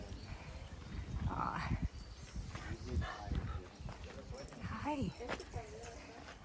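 Slow, uneven hoof clops of horses walking nearby, mixed with a voice speaking and a dog's brief barks in the background.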